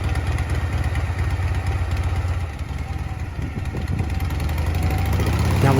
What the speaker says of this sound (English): I'm giving it more gas, sort of repeating what happened on the road when the bike failed